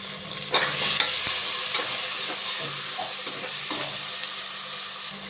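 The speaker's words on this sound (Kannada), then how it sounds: "ಚೆನ್ನಾಗಿ ಫ್ರೈ ಆಗಲಿ ಇದು. ನೋಡಿ, ಮೆಂತ್ಯ ಸೊಪ್ಪು ಚೆನ್ನಾಗಿ ಫ್ರೈ ಆಗಿದೆ." Fenugreek leaves and vegetables fry in a pan for veg pulao with a steady bright sizzle, while a utensil stirs and scrapes in several soft knocks, close up and without talk.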